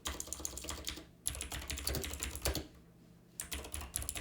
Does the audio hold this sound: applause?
no